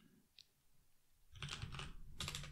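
A computer keyboard clicks in quick bursts of typing, close and fairly quiet, after a single key press near the start.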